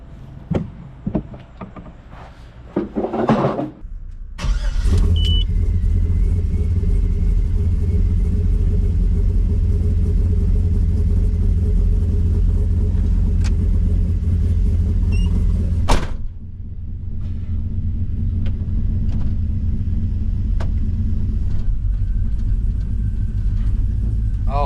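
A Chevrolet Squarebody pickup truck engine cranks with a few sputters, then catches and settles into a steady, loud idle rumble, with a brief clunk midway before the idle continues; freshly replaced brake booster.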